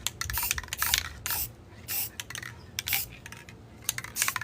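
A spray bottle of homemade DIY cleaning solution squirts in several quick, close bursts, with short pauses and light handling noise between them.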